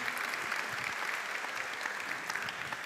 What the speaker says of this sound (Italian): Eccolo, un grande applauso.